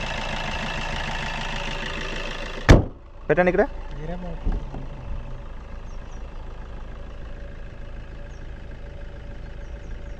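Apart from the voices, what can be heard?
Maruti Suzuki Nexa S-Cross diesel engine idling, bonnet open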